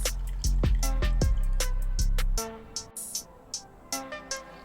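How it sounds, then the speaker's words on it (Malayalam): Blended lime juice poured through a strainer, a short run of liquid pouring and trickling that gives way to a series of separate drips. "ഇപ്പോൾ അടിച്ചെടുത്ത് വന്നിട്ട് നമുക്കിതൊന്ന് ഫിൽറ്റർ ചെയ്ത് മാറ്റി വയ്ക്കണം."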